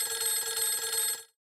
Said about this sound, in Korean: 전화가 왔어요